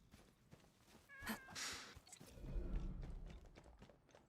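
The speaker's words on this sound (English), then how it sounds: "Much cat noise." A cat meows close by, a short cry followed by a longer drawn-out call, with faint thumps and background sounds.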